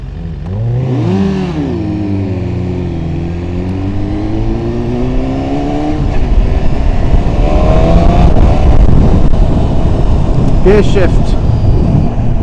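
A 2018 BMW S1000RR motorcycle engine blips and then rises steadily on light throttle, loud and close, with wind noise building as speed picks up and a voice speaking over it.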